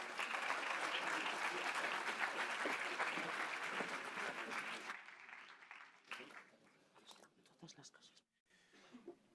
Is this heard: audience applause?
yes